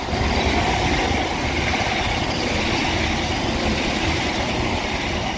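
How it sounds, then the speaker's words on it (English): Double-headed East Midlands Railway Class 170 diesel train passing through West Allerton on a Liverpool branch line, a loud continuous broadband roar of engines and wheels on rails held steady close by. "this double-headed East Midlands 170 passes through West Allerton now"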